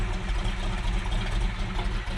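A 1970 Chevrolet C20 truck's factory 402 big-block engine idles with a deep, throbbing exhaust rumble, steady and loud up close, with no voices.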